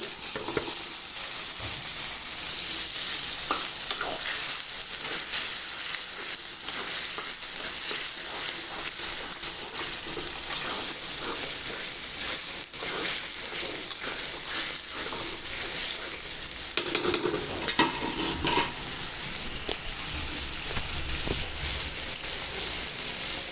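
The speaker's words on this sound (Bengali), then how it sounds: "আমার বিচিটাও কিন্তু কষাই নেওয়া হয়েছে।" Jackfruit seeds sautéing in a spice paste in a pan, a steady close sizzle with occasional stirring scrapes running throughout, no talk.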